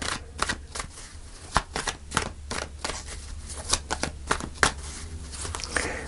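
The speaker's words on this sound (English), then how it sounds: "I'm going to shuffle one more time here." Rapid riffling and flicking of a tarot card deck, a run of crisp, dense shuffles with sharp snaps, close and fairly quiet, no voices.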